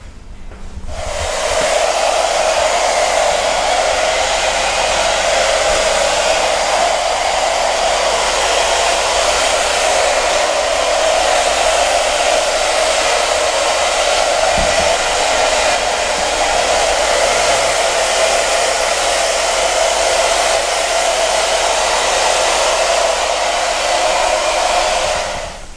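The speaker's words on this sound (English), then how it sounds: "Gonna move to drying the hair." A hair dryer blowing hair dry, a loud, steady whooshing roar that runs continuously from start to finish with no talking.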